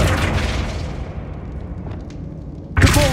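A Flipendo spell cast in the Hogwarts Legacy video game, set in an abandoned cave: a single sharp, loud burst near the end lands after a fading rumble, close and punchy.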